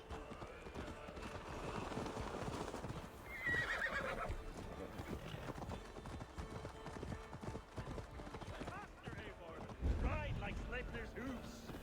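A horse whinnies and hooves clip-clop amid a dense, busy soundscape in Assassin's Creed Valhalla, with a voice talking over it.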